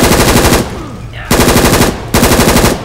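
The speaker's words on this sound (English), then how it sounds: "Grabbing the assault rifle." Rapid automatic bursts from an HK416 assault rifle in Left 4 Dead 2, three loud sustained volleys of gunfire separated by short pauses, close and dominant.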